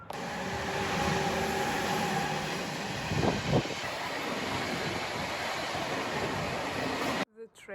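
Steady rumble of a train at a station in Barcelona, a broad continuous roar with a couple of brief squeals midway, ending abruptly.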